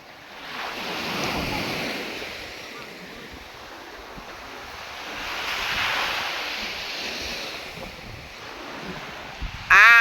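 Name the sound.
sea wind and waves at the beach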